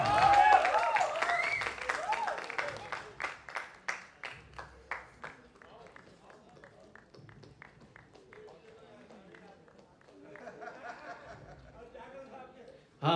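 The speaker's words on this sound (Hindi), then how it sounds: "जोरदार तालियां।" An audience at a stage play breaks into loud applause that fades into scattered claps and chuckles, with a voice speaking briefly near the end.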